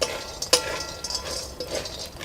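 Mixed lentil vadis being sautéed in oil in a pan, with scraping and clinking of a spoon or spatula against the pan and a low frying crackle, no talk.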